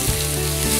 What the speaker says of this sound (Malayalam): ഇഞ്ചി ഇടുക, കറിവേപ്പില ഇടുക. ഇത് നന്നായി വഴറ്റിയെടുക്കുക